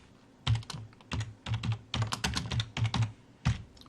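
Fingers typing on a computer keyboard while editing a script, a close run of quick key clicks in irregular clusters, with a few louder strokes standing out and no speech.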